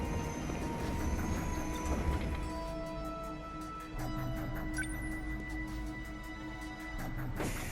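A train rumbles in 13 Sentinels: Aegis Rim, steady low mechanical noise with rattling clicks and faint tonal hums, moderately quiet and continuous.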